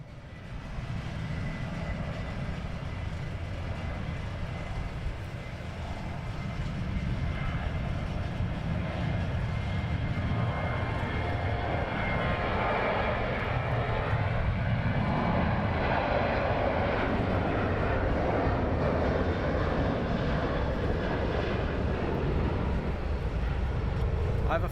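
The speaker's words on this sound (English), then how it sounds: "So the Ryanair is now departing." A Ryanair airliner departs from London Luton Airport, a steady loud engine roar rising over the full clip, with broadband rumble and some voices talking beneath it.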